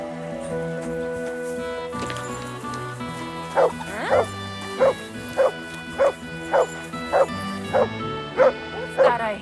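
A dog barks in the medieval video game Kingdom Come: Deliverance II, about ten sharp, evenly spaced barks close by, layered over game music and ambience.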